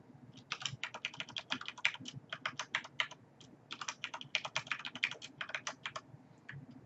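Fingers tap out a password on a computer keyboard in quick, uneven bursts of crisp, close key clicks with a brief pause midway, no voices over them.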